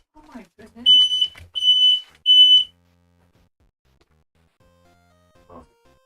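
Indoor smoke detector going off with three loud, piercing electronic beeps in quick succession, preceded by a brief voice and followed by near silence.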